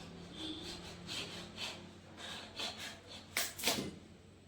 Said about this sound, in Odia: ମୋ ସ୍ୱାମୀ ଏବେ ପାଣି କଖାରୁ ଫାଳ କରିଦେଲେ